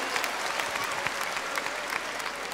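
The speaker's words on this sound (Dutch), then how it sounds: "een keihard applaus van alle jongens en meisjes in de zaal" A hall full of people clapping steadily, a thick, even wash of applause with no pauses.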